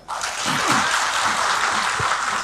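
Loud, dense applause from an anniversary event audience swells in quickly and holds steady, many hands clapping close together, with a faint voice briefly underneath.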